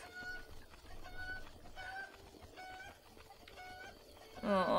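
An angry cucco in the Breath of the Wild video game gives repeated clucking calls over a soft game background, rising into a louder squawk at the end.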